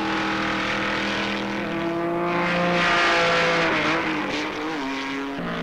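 Trans Am race cars, including a 1969 AMC Javelin, roar around a circuit: loud, steady engine howl whose pitch climbs and dips as the cars accelerate and shift, with no voices.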